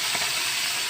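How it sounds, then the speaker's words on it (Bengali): Fish frying in hot oil that has been sprinkled with a little salt gives a brief, steady, broadband hiss with no voices over it. "চলো মাছটা আমি এভাবে ভেজে নেব।"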